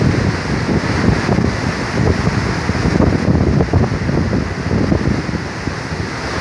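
Steady, loud rushing water roars without pause, a dense churning wash like rapids close by.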